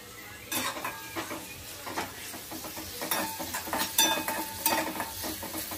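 Lengthwise-sliced onion and green chillies fry in oil in a pan on high gas, a steady sizzle broken by a run of sharp scraping and clinking stirring strokes, close up with no voices.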